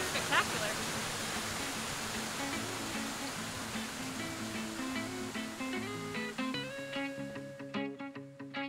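Salmon Creek Falls in Big Sur, California, pours as a soft, continuous rush of water, fairly faint, with melodic music rising over it in the second half.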